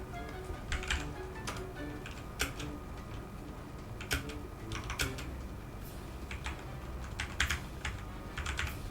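A command being typed on a computer keyboard, with irregular clusters of crisp key clicks and occasional harder taps over a quiet room hiss, close and fairly soft.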